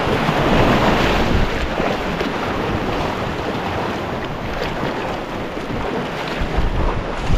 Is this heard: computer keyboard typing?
no